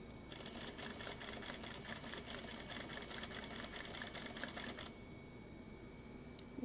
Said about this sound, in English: now we're gonna keep sewing